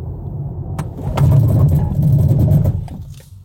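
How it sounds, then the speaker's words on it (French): A BMW iX2 braking hard from 80 km/h, with tyre and road roar swelling, holding steady through the stop, then fading as the car slows; close and fairly loud, with no talking. "je vais faire mon habituel petit test de freinage. On se met bien en ligne à 80."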